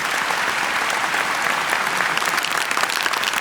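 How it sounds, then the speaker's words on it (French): A single centipede claps in The Amazing Digital Circus, producing a steady, dense roar of applause like a whole crowd, loud and even throughout with no pauses. "c'est parce qu'il y en a qu'un seul qui applaudit, c'est un mille pattes du coup"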